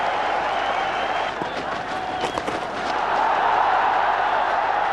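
A cricket crowd at a 1996 World Cup match between Australia and West Indies applauds a batsman's fifty, steady distant clapping and murmur filling the ground under broadcast commentary.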